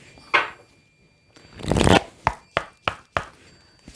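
Tarot or oracle cards shuffled by hand close up: a long riffling burst, then a quick run of five or six crisp, separate card slaps and flicks, with no talking.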